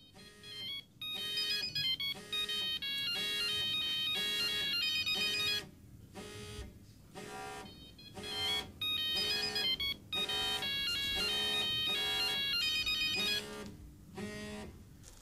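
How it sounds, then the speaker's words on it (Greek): A mobile phone ringtone plays a repeating electronic melody in bursts with brief pauses, loud and close, ringing on unanswered with no voices. "Δεν απαντάει ούτε ο Νικόλας."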